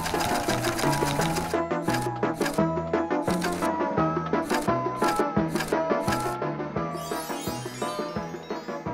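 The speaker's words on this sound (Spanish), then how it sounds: "Chicos, vamos a empezar a coser." Sewing machine stitching small pajamas for a doll, a close, rapid mechanical chatter in quick repeated bursts, with faint tinkly music playing underneath.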